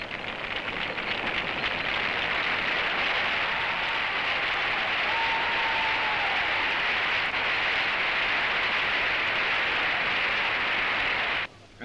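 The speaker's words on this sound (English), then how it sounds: "Not long afterwards, the crowd is cheering Bradman for his 100." A cricket crowd at the Oval during the fifth Test applauds and cheers Bradman's century, with a sustained, dense clapping roar that holds steady for about twelve seconds before stopping abruptly.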